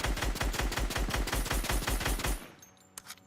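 Rapid automatic gunfire in the video game Fortnite: a loud, steady burst of evenly spaced shots for over two seconds, then it stops, leaving a quiet tail with a couple of faint clicks.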